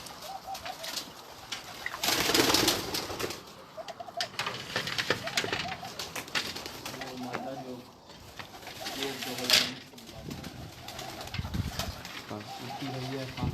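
Pigeons coo in soft, repeated rolling calls on a rooftop, with bursts of wing flapping as birds take off; people talk nearby through much of it.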